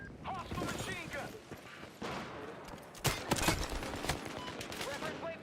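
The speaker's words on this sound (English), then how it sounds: "Hostile machine gun." Rapid bursts of machine gun fire in a mech combat video game, with several loud volleys and crashing impacts mixed into constant battle noise and a talking voice.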